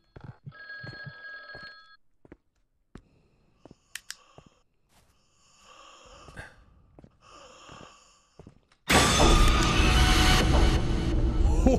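A telephone rings inside the horror video game The Guest, a repeating electronic bell in short bursts near the start, followed by scattered clicks and quiet sounds before a loud, dense burst of noise takes over.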